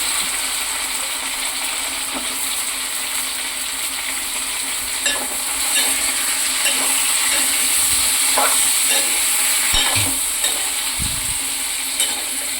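Eggplant pieces sizzle steadily in a pan, with scraping, clicking stirs from a spatula breaking through the frying hiss at intervals, close and fairly loud, no voices.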